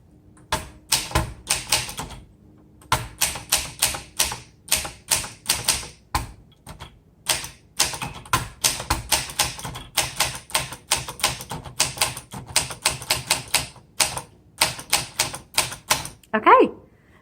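Bursts of crisp keystrikes on a 1963 Olympia SF Deluxe Traveller manual typewriter, rapid clacking runs broken by short pauses, close and loud, ending with a carriage bell or return.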